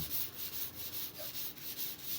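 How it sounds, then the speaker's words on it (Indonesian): Old body filler on a Toyota Innova car body is sanded by hand, a steady rhythmic scratchy rubbing of quick back-and-forth strokes, close and fairly quiet. "lalu kita amplas dulu sebelum kita aplikasikan pendembulan"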